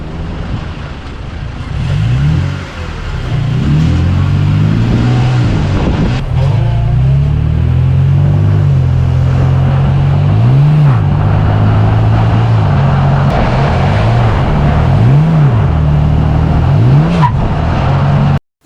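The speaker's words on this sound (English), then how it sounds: "you can hear the transmission rev as if it's in neutral right before it shifts, and then it shifts into gear a little harshly" Transmission of a 2020 Toyota Tacoma TRD Pro revving up as if in neutral and then shifting harshly into gear; a loud, close engine drone with repeated rising and falling rev sweeps throughout, with no talk.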